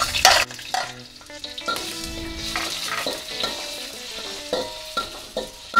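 Chopped shallots and onion sizzle in a hot pan for a quail egg and shrimp sambal, with a spatula stirring and scraping at intervals over a steady fry, close and without speech.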